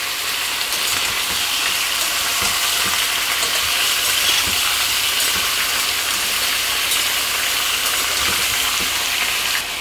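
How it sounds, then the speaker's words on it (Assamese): Chicken pieces fry with coriander in a hot pan, a steady loud sizzle and crackle running unbroken throughout with occasional stirring scrapes and no talking. "চিকেনকে ধুনীয়াকে ভাজিলাম"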